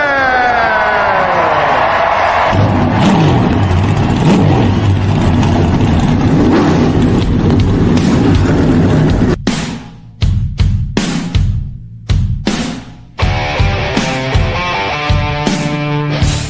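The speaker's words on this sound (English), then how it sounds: "start your engine!" A race car engine cranks and catches, then settles into a loud, close, continuous rumble. Several sharp revs with abrupt cutoffs follow near the end.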